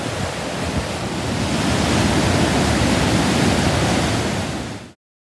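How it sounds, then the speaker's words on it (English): A waterfall at the Little Grand Canyon of Yellowstone, a loud, dense, continuous roar of falling water that swells slightly and holds steady before cutting off abruptly, with no voices. "The waterfall was quite impressive."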